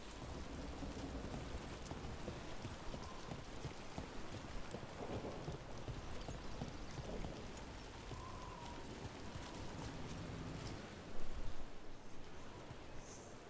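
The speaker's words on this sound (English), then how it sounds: "Nobody else around here dumb enough to wait in the rain?" Steady rain falling in a dark fantasy video game scene, a dense continuous hiss with a brief louder rumble near the end, no talk.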